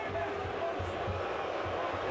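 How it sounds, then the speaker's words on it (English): Arena crowd at a mixed martial arts fight reacting to the action, a dense continuous roar with low rumbling surges, loud and close throughout, with a voice faintly underneath. "And the crowd is reacting."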